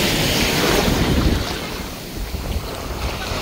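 Surf at a La Union beach rushes and breaks with heavy wind buffeting the microphone. It sounds loud and close, swells early, then eases into a rougher, churning wash with no voices.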